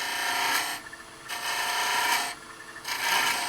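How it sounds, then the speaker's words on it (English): A woodturning chisel chamfers the end of a spinning handbell ornament on a lathe, giving a close, steady scraping rasp in three long passes separated by brief pauses. "I'm just going to chamfer that end a little bit and measure it"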